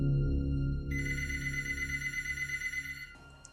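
A telephone rings in a quiet house at night, a steady electronic trill that continues for several seconds and then cuts off.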